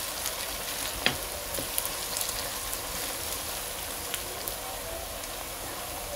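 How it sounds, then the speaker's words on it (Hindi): Steady sizzling of onion and garlic frying in a hot pan, with scattered small pops and crackles and no talking. "इसको हम थोड़ी देर के लिए फ्राई करेंगे।"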